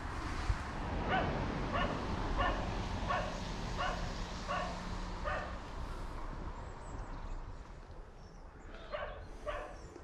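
Dogs bark on a snowy winter walk in England, a run of about seven regular barks at mid-distance, then a pause and a couple more near the end, over light outdoor background noise.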